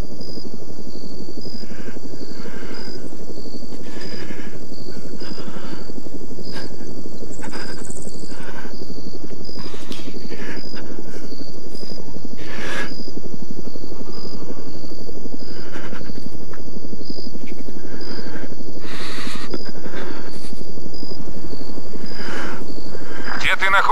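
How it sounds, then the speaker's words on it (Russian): A military helicopter drones steadily and loudly throughout, with a Russian-speaking voice reporting over a radio on top of the rotor noise. "Замечен противник. Вертолеты. Запад."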